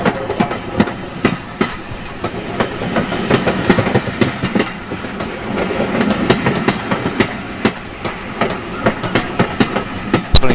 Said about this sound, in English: This is the Bluebell Railway's own U-Class 260 loco, looking resplendent in its southern livery.